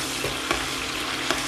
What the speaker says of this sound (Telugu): ఒక చిన్న టీ స్పూన్ జీలకర్ర, అలాగే కరివేపాకును కూడా వేసుకుని వేగనివ్వాలి